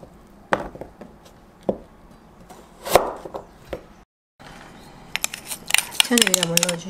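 A knife chops radish into small cubes on a cutting board, with several separate knocks spread out, then a brief gap followed by a quick run of sharper, closer cuts and some faint rustling.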